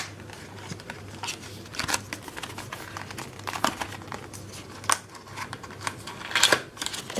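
Crinkling and rustling plastic packaging being opened for a Spigen Liquid Air case for a Samsung Galaxy S10, close and continuous with irregular sharp crackles and taps, no talking.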